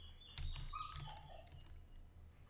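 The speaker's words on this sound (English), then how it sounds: "Great, now my dog's gonna be whining." A pet dog whines faintly in the background, a few thin, high, wavering whimpers sliding downward in pitch over a quiet low rumble, with no talking.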